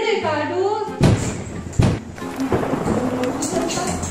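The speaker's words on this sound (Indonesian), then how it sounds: "Wah, petirnya gede banget ya suaranya." Loud thunder booms and cracks while rain begins falling, the rumble rolling continuously with sharp claps, and people talk beneath it.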